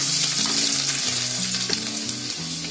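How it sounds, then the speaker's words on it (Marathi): Whole spices, ginger and garlic fry in hot oil, a loud continuous sizzle with the occasional stir and scrape of a spoon, close up and without any talk. "आपला हा मसाला बघा चांगला लाल फ्राय झालाय"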